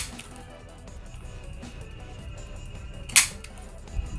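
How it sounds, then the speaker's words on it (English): A handheld corner rounder punch cutting the corner of a homemade paper ID card, one sharp, close snap standing out against quiet room noise, followed by a fainter click. "I'm going to use a corner rounder just to round off all these corners."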